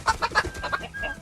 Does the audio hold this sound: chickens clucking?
yes